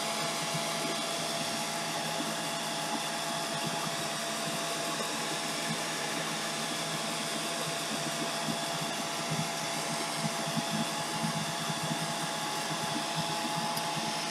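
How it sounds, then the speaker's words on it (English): A blow dryer drying an embellishment on fabric, running steadily with an even, close airy whine and hum throughout and no talking. "Now I have to use my blow dryer."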